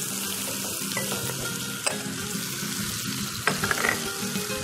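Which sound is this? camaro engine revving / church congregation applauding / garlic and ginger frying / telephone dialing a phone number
garlic and ginger frying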